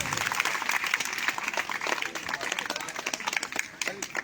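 Schoolchildren clapping at a Teachers' Day honour ceremony in a village school, a lively burst of many small hands applauding continuously for about four seconds, with faint voices mixed in.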